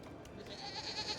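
A goat in the Lego Batman video game lets out a brief, faint bleat that rises slightly near the end, heard alone.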